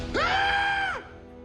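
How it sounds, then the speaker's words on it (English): A single loud, sustained scream of about one second rises sharply, holds a steady pitch, then drops off, standing alone against a quiet background in a Transformers cartoon scene. "Did you just scream like a little girl?"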